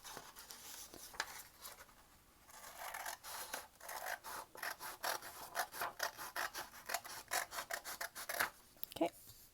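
Scissors cutting folded paper along a line for an Earth Day craft, a close run of quick crisp snips and rustles that speeds into a dense rhythmic series, faint and without talk.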